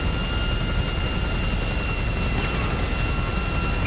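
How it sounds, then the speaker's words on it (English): An aircraft engine roars in Grand Theft Auto during takeoff at Los Santos International Airport, a loud, constant drone with no break. "This is going to be very difficult for me, flying an aircraft."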